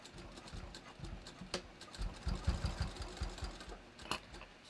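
A sewing machine stitches a bathrobe, with a faint, rhythmic run of quick mechanical thumps and clicks that speed up and slow down in short bursts.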